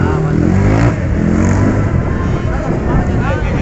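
A motocross motorcycle engine revs at a children's race on a circuit, a loud close rising and falling buzz under people talking nearby.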